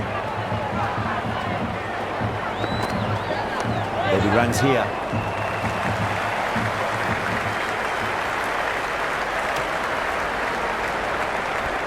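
A packed cricket stadium at an India versus South Africa T20 match hums with dense crowd noise and rolling applause that swells briefly midway, with a commentator talking over it.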